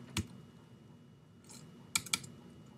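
A few scattered keystrokes on a computer keyboard, with one isolated click, then a soft shuffle and a quick pair of sharp clicks, close and quiet.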